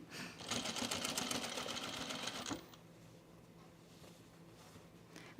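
Domestic sewing machine stitching a pocket on a pair of pants: a fast, close, steady whirring run of needle strokes that stops after a couple of seconds, leaving a faint room hum.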